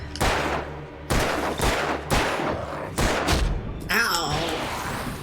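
Gunfire in the video game Alan Wake cracks out in five sharp, heavy shots spaced about a second apart, each followed by a short decay, loud and close.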